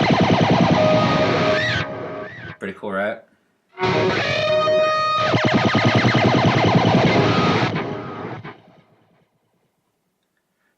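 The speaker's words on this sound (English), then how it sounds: "So that's how you get the ray gun effect." A guitar run through a Fractal AX8 preset screams with a warbling, sweeping ray-gun feedback effect: two sustained, heavily distorted swells split by a short gap, loud and close, then fading to silence, with a voice speaking briefly.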